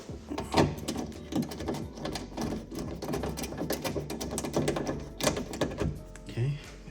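Screws go into a replacement trunk latch on a Kia Optima or Hyundai, heard as close, repeated mechanical clicking, ratcheting and clunks with an uneven rhythm.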